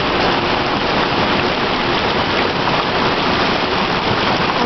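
Steady rain falling onto roof tiles during the rainy season, a dense, even hiss of drops with no pauses, fairly loud and close, with no voices.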